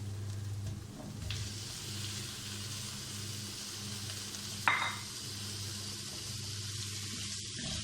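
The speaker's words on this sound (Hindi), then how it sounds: "हम 5 मिनट के लिए गोश्त को अच्छी तरह फ्राई करेंगे।" Beef sizzling steadily in a pan with fried onions, a continuous bright hiss with occasional stirring scrapes and a sharp clatter near the middle, close and fairly loud with no talk.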